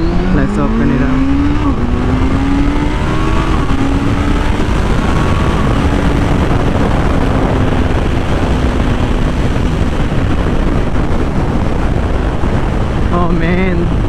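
A 2020 Kawasaki Z900 motorcycle engine revs up and accelerates loudly and close, its pitch rising and shifting through gears over a steady roar of wind and road noise that lasts throughout.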